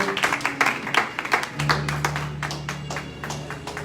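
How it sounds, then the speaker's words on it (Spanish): Church congregation applause, a dense burst of clapping from many hands, with a low sustained organ-like tone entering partway through. "Denle un aplauso al Señor y siéntese"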